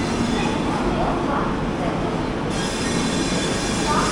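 The Shalimar–Chennai Central Coromandel Express rolls through platform 1 at a station, a loud continuous rumble of wheels on rails with squealing, close and steady throughout.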